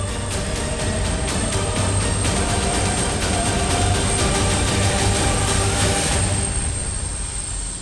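An F-396 tow tractor pulls an Antonov aircraft by a 3-ton tow bar, giving a loud, steady engine drone with a constant high whine throughout, easing slightly near the end.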